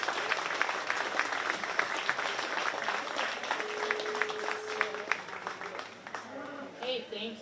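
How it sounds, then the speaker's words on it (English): A crowd at a county fair 4-H beef show applauds the exhibitors, steady moderate clapping that gradually thins toward the end, with faint voices and a brief tone underneath. "So please give these exhibitors a round of applause."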